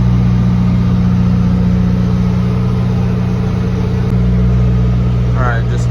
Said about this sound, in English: Get this engine cranking.